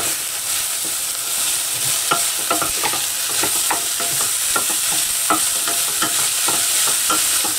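Ham frying in a pan with carrots for a pasta sauce, stirred with repeated scraping strokes against the pan over a constant close sizzle.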